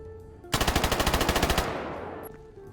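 Rapid automatic gunfire with enhanced recoil effects in the video game STALKER GAMMA, a loud, close burst of about a dozen evenly spaced shots lasting around a second, then a long echoing tail fading away.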